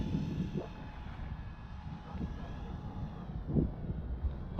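A homemade radio-controlled jet model aircraft drones steadily overhead as it comes in to land, a continuous moderate whine with wind buffeting and faint outdoor rumble.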